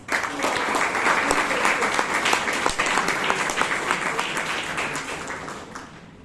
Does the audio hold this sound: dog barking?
no